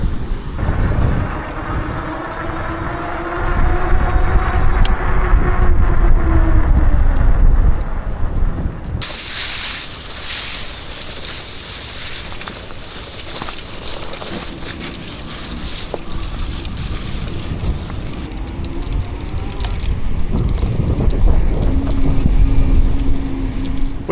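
Riding a Birch Grolar electric bike along a trail toward raging spring spillways, with steady wind rushing over the microphone and rolling tyre hiss that swells and eases throughout, no talking.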